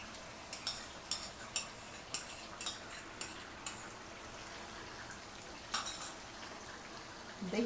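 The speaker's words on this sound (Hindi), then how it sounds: "दही डाल के इसको अच्छे से हिला देंगे ताकि ये मिक्स हो जाए" A spoon stirs yogurt into fried chicken in a pot for biryani, giving a series of sharp metallic clinks and scrapes at irregular intervals over a soft sizzle.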